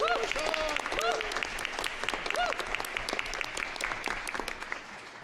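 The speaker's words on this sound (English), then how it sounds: "Can we get a round of applause for Sean over here, please" Crowd at an Ottawa-Vanier all-candidates community forum claps steadily for several seconds, dense applause with a few voices calling out over it.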